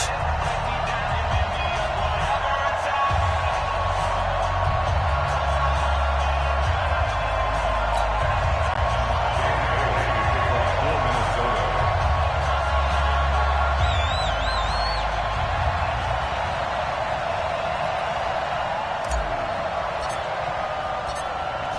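A stadium crowd roars in a PS4 football game as the Baltimore Ravens face the Minnesota Vikings at M&T Bank Stadium, a steady, dense wash of cheering that runs throughout with voices talking over it.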